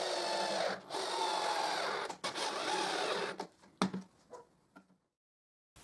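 A screw is driven into a plywood jigsaw table board to fix a support, giving a steady, close buzzing grind for about three seconds that stutters into short bursts and then stops.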